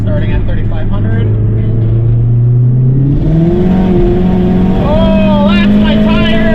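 A tuned Mazdaspeed 3 pulls hard from 3,500 rpm, its engine note climbing steadily and loudly in pitch with a brief shift-like step midway, the droning exhaust filling the cabin throughout.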